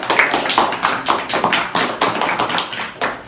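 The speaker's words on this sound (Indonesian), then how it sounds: "Monggo tepuk tangannya dong." Audience applause at a community health talk in Malang, Indonesia: a room of people clapping in a quick, irregular patter, moderately loud and continuous without talk.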